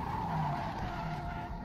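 A car skids with a sustained, steady tire squeal in the Resident Evil video game. The screech stays loud and continuous for the whole moment, with no voices over it.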